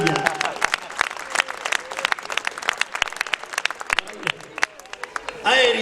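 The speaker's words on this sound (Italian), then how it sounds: "Guarda l'applauso, guarda che meraviglia" A large audience breaks into lively applause, a crackling patter of many hands with a voice speaking over it, ending in a louder swell.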